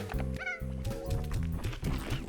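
Several short cartoonish meows from cat slimes in Slime Rancher 2 ring out over looping game music, repeated in quick succession.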